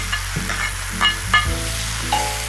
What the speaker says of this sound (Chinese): 我们的肥肠下锅， 也微微煸炒一下，